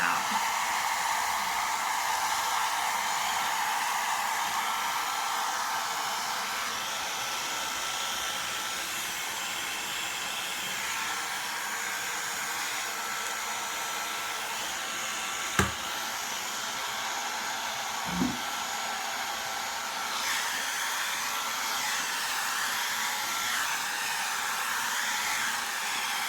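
A handheld hair dryer on its low setting blows hot air in a steady, close whooshing whine that runs unbroken throughout, with a couple of faint knocks partway through.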